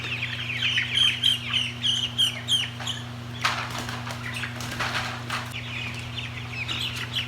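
Chickens and a rooster in a pen, a burst of rapid clucking and chirping close by over a steady low electrical hum, fading to scattered calls and rustling.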